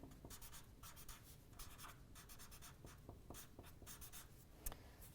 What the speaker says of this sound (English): when you label it, once again, you write down your name